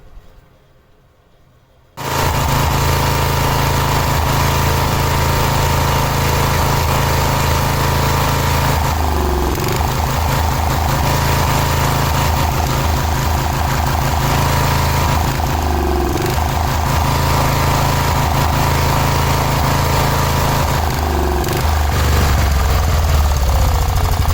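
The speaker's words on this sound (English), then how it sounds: "Almost enter this into a low idle contest if any of you guys remember those." Engine of a 1986 Cub Cadet riding mower starts abruptly, then settles into a loud, steady low idle that runs continuously with slight rhythmic lopes and no talking.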